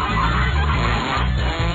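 A loud, honking duck-quack sound effect stands in for a fart, repeating in a steady run of harsh, nasal calls that fill the short clip on their own.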